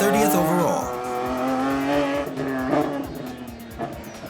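A BMW race car sweeps through a hill climb turn at the FLOW King Of The Hill event, its engine note rising and falling loudly with tire squeal, sustained and close throughout.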